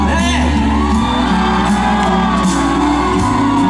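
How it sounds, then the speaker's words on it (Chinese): One section of a big crowd at an outdoor festival concert in Linbian, Pingtung, whoops and shouts loudly and continuously, with a low steady rumble underneath. "我听一下我右手边的尖叫声一下"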